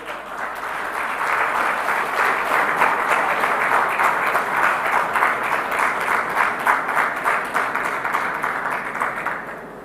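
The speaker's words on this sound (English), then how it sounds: "I request all the participants to give a good round of applause." Large audience at the India Maritime Week 2025 exhibition giving sustained applause during an MOU exchange on stage, a dense, steady wash of clapping lasting about ten seconds.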